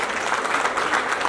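An audience applauds steadily for Daisy at a Mulembe Unified gathering in Kakamega, a dense, even wash of many hands clapping throughout with no clear breaks.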